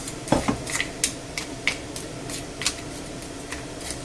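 Frozen seafood tumbles into a paella pan with a series of sharp, irregular clatters and clinks, about a dozen separate hits over a few seconds, close and fairly crisp against quiet background.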